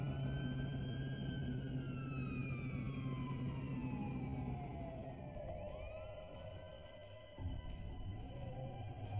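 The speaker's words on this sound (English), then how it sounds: "I just hit all my lights, turned my siren on, and headed to the court." A police siren wails and sweeps in pitch over an engine rumble, fairly distant and continuous, with the tone shifting partway through.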